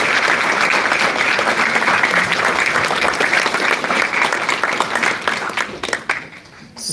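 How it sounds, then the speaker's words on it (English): An audience at the AWE 2026 Builder to Founder workshop gives a big round of applause, loud, dense and sustained for several seconds before it thins and fades near the end. "Big round of applause."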